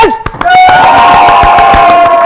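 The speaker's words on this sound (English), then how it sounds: "I want another round of applause, but bigger with more cheering this time" A studio audience breaks into loud applause with sharp rapid claps and a sustained high whooping cheer rising over the crowd.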